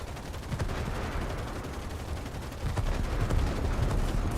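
Automatic gunfire strafing a ship in a naval combat video game, a dense continuous rattle of shots with scattered sharper bursts and low booms, steady and loud throughout.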